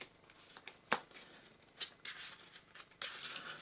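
A deck of Yu-Gi-Oh cards being shuffled by hand, soft papery riffles and flicks in short irregular bursts, close and quiet with no talking.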